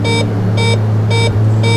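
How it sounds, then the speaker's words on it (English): Landing gear warning alarm in the X-Plane 11 flight simulator: a loud, steady electronic beeping in regular pulses, four bursts over a constant low hum of cockpit engine drone. "that's my landing gear alarm that's on, because my airspeed is slow enough"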